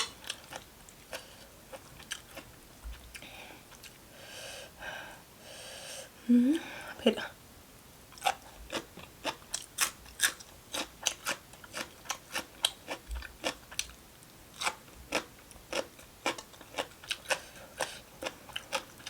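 Close, crisp crunching bites repeat steadily as spicy pounded chicken feet are chewed, with a brief stretch of faint murmuring near the start.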